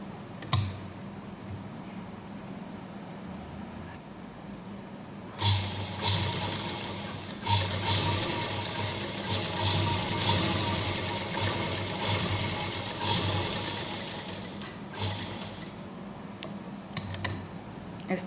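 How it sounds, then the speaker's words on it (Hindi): After a quiet start with faint handling, a sewing machine stitching a salwar belt joint starts up and runs steadily up close, a continuous mechanical whir with brief stops and restarts. "बेल्ट तैयार करने के लिए सबसे पहले हम बेल्ट की जॉइंट लगाएंगे इस तरह से, इसके ऊपर रखते हुए यहाँ पे सिलाई लगाएंगे।"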